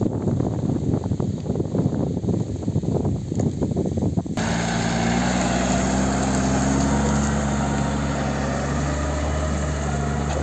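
Tractor engines work steadily during corn unloading alongside Kobzarenko trailers, first a rough, noisy rumble, then a sustained, loud droning hum that holds unbroken for several seconds.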